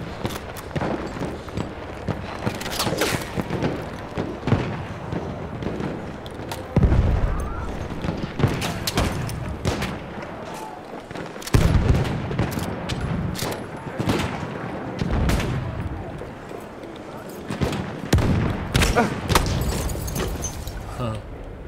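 Gunfire in the World War II shooter Battlefield V: repeated loud gunshots and bursts of automatic fire, some close and punchy with heavy booms, scattered through a busy battle while a person talks over it.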